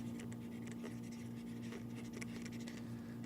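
Faint scratchy scribbling of a pen or marker on a board during a geometry lesson, a steady run of short strokes over a constant low hum, with no talking.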